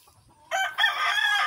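A native rooster crows once, a loud, close, drawn-out call over a quiet background.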